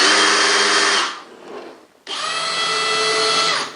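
Bosch FlexiClick 5-in-1 cordless drill fitted with an offset chuck and hex bit holder, whirring loudly up close, stopping for about a second and then starting again at full speed.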